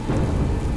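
Thunder rumbling with steady heavy rain in a Hindi mythological TV drama storm scene, a loud continuous wash with no voices.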